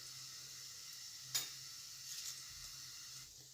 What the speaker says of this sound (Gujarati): જીરાને થોડું તતડવા દઈશું